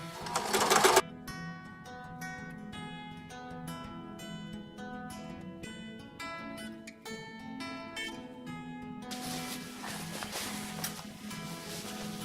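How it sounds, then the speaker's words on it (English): A sewing machine top-stitching a garment onto an inset sleeve of a historical nightgown, a steady rapid mechanical whir with regular stitch clicks, running close and alone for most of the stretch. "So I'm basically top stitching the garment onto the sleeve."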